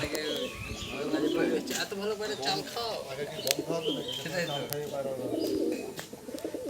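Pigeons coo repeatedly nearby, soft rolling calls with a few chirps, while a person talks over them.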